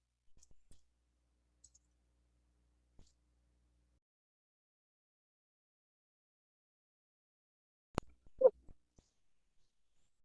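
A computer mouse clicks a few times: scattered soft clicks early on, then a sharper click with a quick cluster of faint clicks near the end, in an otherwise quiet room with no talking.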